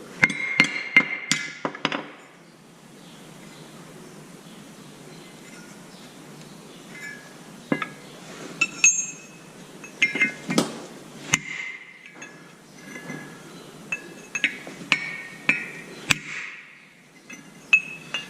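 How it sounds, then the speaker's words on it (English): A hammer strikes metal in irregular bursts of sharp clanks, some in quick runs and others spaced apart, close by with quiet pauses between. "Hammer."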